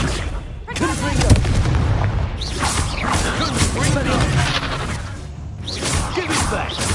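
Repeated blasts and crackling bursts from Confringo fire spells in Hogwarts Legacy video game combat, dense and loud throughout, with a voice speaking over the action.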